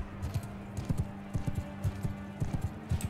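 A horse's hooves clip-clop in the medieval video game Realm of Thrones, a steady rhythmic gait of paired thudding steps, close and moderately loud over a low background hum.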